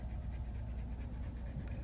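A dog pants in quick, steady rhythm, close and continuous throughout, with no voices.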